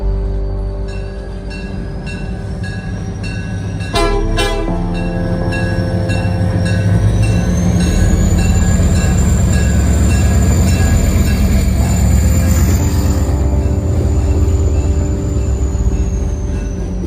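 A CN freight train rolls past along the lakefront at Leif Erikson Park, its loud, steady rumble and wheel noise filling the scene, with a strong burst of sound near the four-second mark and a high squeal later.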